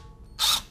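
A power impact tool gives a single loud burst of about a quarter second as it breaks a brake caliper bolt free on a 2007-2013 Acura MDX front brake job, with quiet shop room tone before and after.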